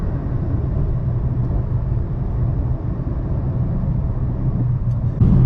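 A car fitted with a 392 Hemi port intake manifold launches hard with wheel spin, a loud, steady low engine roar and rumble that holds throughout and swells slightly at the end.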